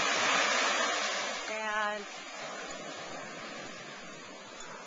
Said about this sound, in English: here's a nice picture of the waves right here